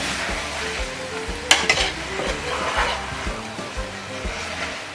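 Seasoned ground meat sizzles loudly in a hot pan as a spoon mashes and stirs it, with steady close frying hiss and a few sharp scrapes.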